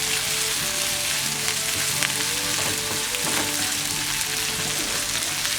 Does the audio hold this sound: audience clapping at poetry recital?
no